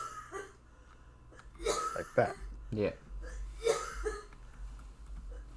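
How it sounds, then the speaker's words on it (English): A woman coughs in the background of a room in several short, raspy bursts, while someone talks closer to the microphone. "You could probably hear my lady coughing in the background"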